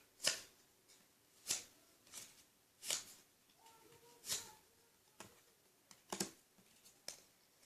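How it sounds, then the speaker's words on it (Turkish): Soft, close handling of playing cards, a series of light flicks and snaps as cards are picked up and turned over one at a time, quiet with irregular spacing and no talk. "Şimdi buradan 4 tane kart alıp ters yapacağım."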